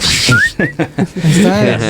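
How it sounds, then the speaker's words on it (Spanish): A couple of brief, thin whistled notes slide upward, mixed with close talking and laughter; the whistling is short and tentative. "¿nos podrías regalar un chiflidito?"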